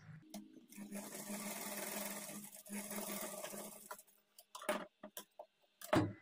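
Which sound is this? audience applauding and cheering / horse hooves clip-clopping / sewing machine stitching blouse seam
sewing machine stitching blouse seam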